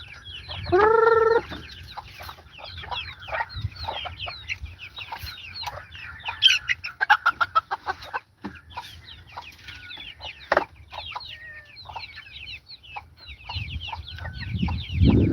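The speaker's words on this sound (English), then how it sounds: "Come here, chickens." Several farm chickens, including a bantam, cluck and chatter nearby, with one drawn-out squawk at the start and a quick burst of rapid clucks midway.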